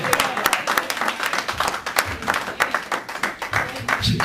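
A church congregation claps along during a sermon, with a lively run of hand claps that carries on steadily through the moment while voices mingle in the background.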